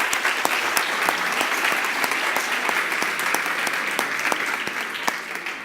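An audience applauds at the close of a talk on data security under GDPR, with steady, dense clapping from a crowd in a hall, loud and sustained throughout.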